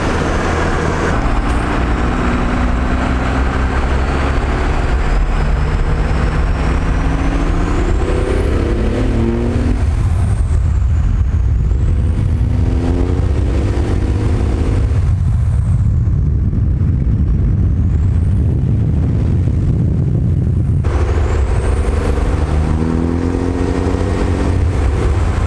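A 12-valve Cummins diesel dually pickup with a 5-speed manual transmission, heard from inside as a loud, continuous diesel drone that rises and falls with gear changes and engine braking, accompanied by a high whistling whine that sweeps up and down.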